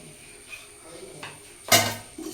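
Fish curry gravy is ladled over a dish beside a home-cooked meal of tapioca, with soft clinks of steel utensils and one sharp metallic clatter near the end, all close and fairly quiet.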